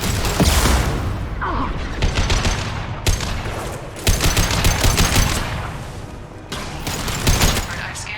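Rapid bursts of automatic gunfire and heavy shots in a video game battle, loud and dense, coming in several volleys with short gaps, mixed with clattering mechanisms and a voice speaking over the shooting.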